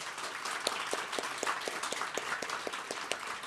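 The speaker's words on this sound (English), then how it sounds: "let's please give them an amazing round of applause." Applause from an audience at the grand opening of the Wilcox affordable housing project, a steady wash of many hands clapping with a few sharper individual claps standing out, moderately distant and sustained throughout.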